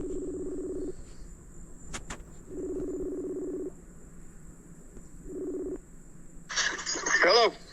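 A telephone call being placed: a few short dialing and ringback tones repeat in a steady on-off rhythm, clear and close, then a brief burst of higher sound at the end as the line connects.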